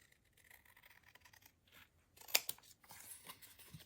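Scissors fussy-cut a small paper 'Hello, Snow' tag, making soft snips and crunchy paper cuts that grow louder near the end, close and alone without talk.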